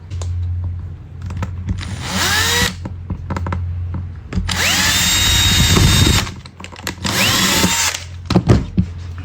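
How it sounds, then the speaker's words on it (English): A power drill bores a center hole into a coke can for a DIY camping lantern, with three loud whining bursts separated by quieter pauses and handling clicks. "Drill a center hole."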